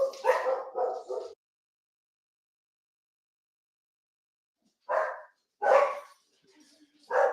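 Several dogs bark in short excited bursts, a cluster at the start and then more barks after a long silence, fairly close and loud.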